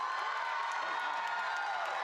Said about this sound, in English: On three, we're going to cheer for these graduates that are through those doors.